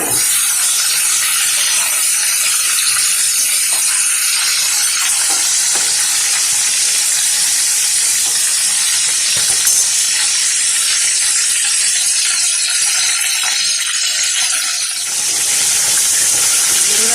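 Chicken pieces frying in hot oil in a pan, a loud, dense, unbroken sizzle and hiss that carries on steadily throughout.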